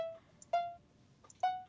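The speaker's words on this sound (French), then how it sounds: "On va mettre un petit bloc musical. Et ce sera le son." Minecraft note block used as a microwave's ding, set up with a redstone repeater: three short, clean bell-like tones spaced evenly, quiet and isolated with no talk.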